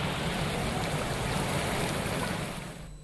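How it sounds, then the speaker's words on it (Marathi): Floodwater of the Panjhan and Ramgulna rivers in Manmad, Nashik, after heavy rain, a dense continuous roar of rushing water, loud and steady throughout before easing slightly at the end, with no voices. "मनमाड शहरातून वाहणाऱ्या नामगुळणा आणि पांजण नदीला या ठिकाणी मोठा पूर आल्याचं पाहायला मिळेल"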